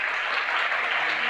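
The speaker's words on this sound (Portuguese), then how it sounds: "Eu gostaria que você desse uma salva de palmas assim" A church congregation claps in praise, a brief, dense burst of applause heard alone at a steady level.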